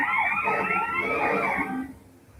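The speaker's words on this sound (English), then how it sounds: "Pay attention to the sound of the sirens." Police car sirens in a video game wail with layered, rising and falling tones for about two seconds, then fade away quickly, with no talk over them.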